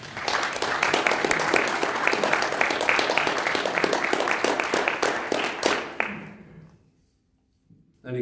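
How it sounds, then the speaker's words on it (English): A small audience at a health talk gives a round of applause, with close, crisp clapping for about six seconds that then stops abruptly, leaving near silence. "I think we give you a round of applause."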